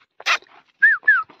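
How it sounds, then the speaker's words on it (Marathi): A calm dog on a hill fort trek gives a short yip followed by two close, high whimpering whines, loud and clear against near silence. "बघा किती शांत स्वभावाचा हा कुत्रा आहे"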